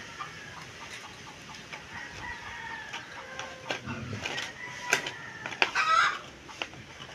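Chickens cluck and chatter near a rabbit hutch being moved, with soft scattered clucks building to a louder burst of squawking toward the end, over quiet outdoor background and no talk.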